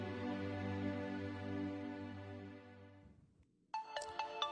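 A phone ringtone plays a sustained harmonic tone that cuts off, followed after a short gap by a bright chiming melody, in a scene from a feature film.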